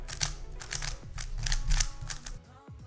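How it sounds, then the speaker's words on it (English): A Rubik's cube is scrambled by hand for fewest-moves practice, giving quick clusters of crisp plastic clicks and rattles in uneven bursts, close and fairly loud, with no talking. "you get both of your cubes and scramble from the paper"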